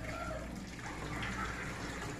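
Hot water drains steadily from soaked chicken feet in a kitchen, a continuous soft pouring and splashing at moderate distance with no talking.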